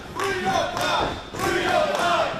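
Wrestling crowd at a Miami-area show chanting 305, a loud rhythmic group chant rising and falling in two clear waves across the arena.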